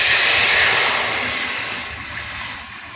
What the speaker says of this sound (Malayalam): അതിലേക്ക് ബാക്കിയുള്ള തേങ്ങാപ്പാലെല്ലാം ഒഴിച്ചു കൊടുക്കുക.